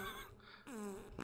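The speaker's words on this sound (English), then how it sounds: "Quite a majestic tone to these fucking astral farts." Cartoonish, musical fart sounds from the video game Totally Accurate Toilet Simulator: a few tonal, buzzy bursts with a slight echo, each rising or falling in pitch, close and fairly loud, with no talking.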